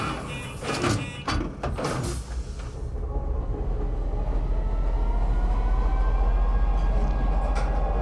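A metro train in the Star Citizen game: clunks and rattling of doors and carriage at first, then a steady, loud rolling rumble with a rising electric motor whine as the train gets moving, no voices.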